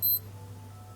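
A Casio A100WE digital watch alarm gives one short, high electronic beep, close and clear, followed by quiet.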